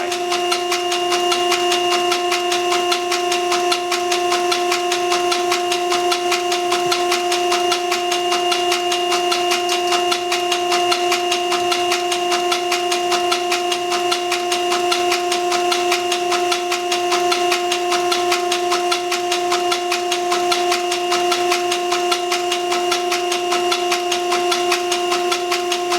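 A rebuilt DB2 diesel injection pump for a John Deere 455E track loader turns slowly at about 350 RPM on a test stand, giving a steady, even mechanical drone with a constant tone throughout.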